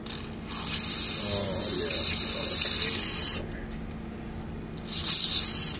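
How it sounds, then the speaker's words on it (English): Aerosol spray hisses loudly into body holes on a Subaru during clutch work, in two long bursts separated by a short pause, close to the microphone and with no talking. "I'm just gonna spray up the holes on this side."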